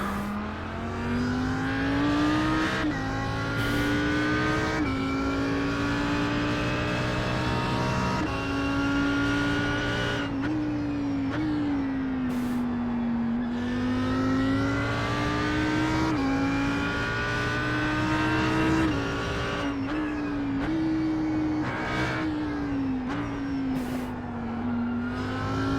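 An Audi R8 GT3 race car tears around the Imola circuit in the iRacing sim, its engine note climbing and dropping through repeated upshifts, loud and steady for the whole stretch, with no voices.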